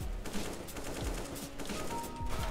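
Sustained gunfire crackles behind the player in a shooter game, repeated bursts of shots running steadily at moderate distance with no talk over them.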